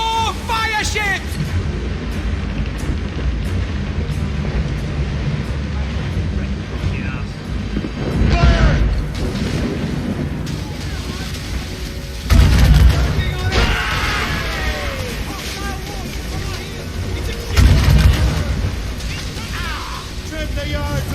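Cannon fire during a naval battle against fire ships in the video game Assassin's Creed Rogue, heavy booms landing roughly every five seconds beneath constant shouting voices and ship ambience.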